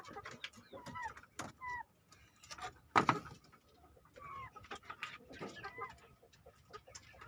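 Several chickens of about 4.5 to 5 months cluck and chirp softly at close range in a coop, with a sharp louder squawk partway through and faint background rustling.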